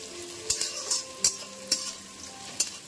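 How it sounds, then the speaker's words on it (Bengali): Half-fried onion with cardamom, bay leaf and sugar sizzling in a pan, a moderate steady frying hiss punctuated by about six sharp scraping or tapping stirs, close and without talk. "পেঁয়াজটা আধা আধি ভাজা হয়েছে, এখন একটু এলাচ,"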